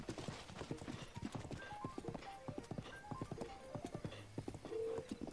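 Horse hooves clip-clop steadily at a riding pace in The Legend of Zelda: Breath of the Wild, each beat close and distinct, with game music notes and a faint snort over the rhythm.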